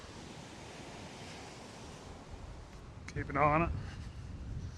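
Wind blowing across a sea shore during stormy sea fishing at Trimingham, a steady rushing noise with surf beneath, fairly faint, with a brief spoken phrase partway through.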